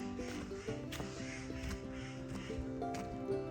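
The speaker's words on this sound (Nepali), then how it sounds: "चराहरूको आवाज पुरा आइरहेको छ।" Birds call at a forest edge beside a trail, with crow-like caws repeating at irregular intervals over a steady background, moderately near and fairly clear.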